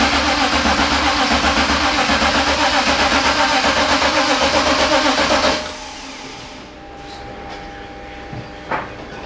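Rebuilt BMW E46 race engine with Schrick cams and an M50 intake, running loud and close with a steady, throbbing idle for about five seconds before it cuts off, leaving quiet background with faint knocks.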